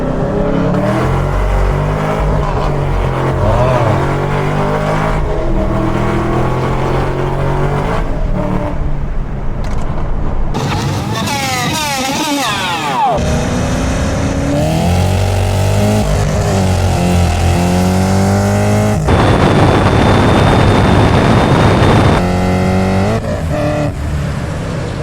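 A 650hp Chevrolet Camaro ZL1 revs and accelerates hard with wheelspin, loud and close, engine pitch sweeping up through shifts, with a high tire-squeal tone late in the run.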